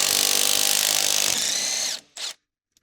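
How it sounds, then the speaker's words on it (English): A power tool whirs loudly and steadily at close range while the upper mounting bolts on the front sway bar of a Jeep Wrangler are loosened with an 18mm deep socket, then cuts off with one short final burst. "use the 18mm deep socket along with the impact wrench and an 18mm wrench to remove the upper mounting bolts on the front sway bar."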